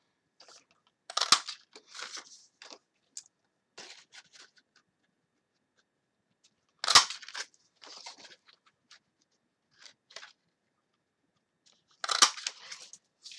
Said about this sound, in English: But I have actually a 1-inch punch, so we're going to use that to save time.